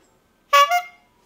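A single short car horn honk, loud and close, a brief two-part toot lasting about half a second in otherwise quiet surroundings.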